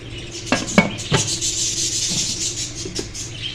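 Metal pressure cooker lid fitted and closed over a pot of potatoes and fenugreek with water, several sharp clanks and scraping rubs spaced across a few seconds, close and fairly loud, no voices.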